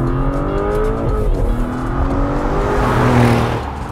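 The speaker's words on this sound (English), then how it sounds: "I'm just getting some top-notch V8 noises" A Porsche Cayenne S with a twin-turbo 468-horsepower V8 drones loudly and close, its engine note rising and falling through steady revs and acceleration for the whole clip, with no talk.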